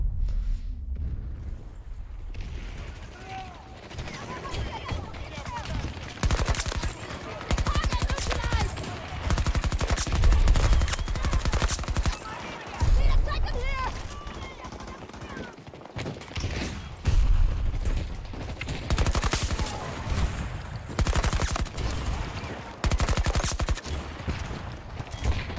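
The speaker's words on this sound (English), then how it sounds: "he continued shooting as well" An SMG firing in Battlefield 2042, long bursts of rapid automatic gunfire with booms and impacts, loud and close, continuing in waves throughout with brief lulls.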